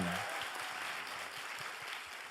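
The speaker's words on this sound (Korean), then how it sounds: "여러분 큰 박수 한번 주세요" Audience applause for a guest on a Korean talk show, a dense steady wash of clapping filling the short stretch at an even level.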